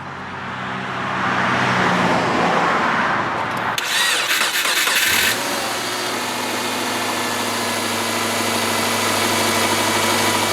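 A car with a completely dead battery, jump started with a NOCO GB20 lithium jump starter. Several seconds of loud, close starter cranking catch into an engine that settles into a steady, even idle.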